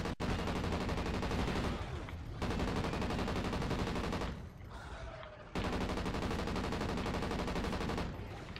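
Light machine gun fire in a zombie shooter game: long, loud, sustained automatic bursts, broken by one brief pause and a short lull before firing resumes.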